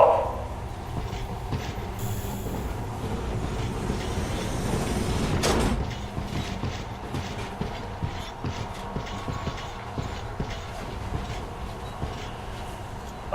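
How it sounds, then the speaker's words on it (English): Metro train doors slide and thud shut in Metro Last Light, set in a secret Metro 2 tunnel, followed by a rumbling, clattering rail hum that carries on at a steady level. "Watch yourself, the doors are closing."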